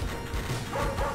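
Dogs barking in N.A.R.C., a game, short yapping barks from a pack trailing behind amid busy game noise, continuous and moderately loud.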